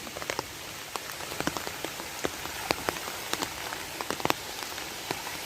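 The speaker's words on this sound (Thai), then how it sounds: "กลายเป็นว่าฝนตกแล้วก็บ่ได้เล่น" Steady rain falls outdoors in a rural garden, with a soft, continuous hiss broken by scattered drips and pattering drops. It stays fairly quiet, and no one speaks.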